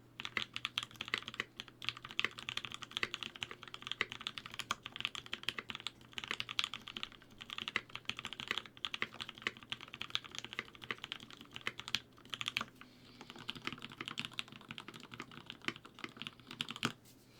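Rapid keystrokes clatter on a computer keyboard in a continuous, fairly quiet stream of typing, with brief pauses between bursts.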